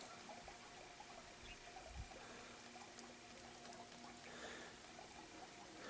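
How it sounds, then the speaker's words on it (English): Faint, steady trickle of water running beneath the ice of a frozen koi pond in snowy winter weather, a soft continuous wash with a low thump near the middle. "You can still hear the water trickling under there."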